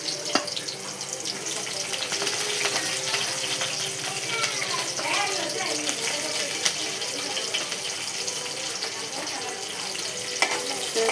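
Cumin, mustard seeds, onions, green chillies and curry leaves frying in oil, a steady dense sizzle with faint crackles and occasional stirring scrapes, close and continuous throughout with no talk.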